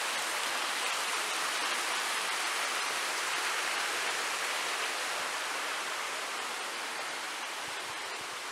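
Constant hiss of a river tumbling over waterfalls alongside a walking path with footbridges and old plane trees in old Kavala, even and unbroken throughout, no one speaking.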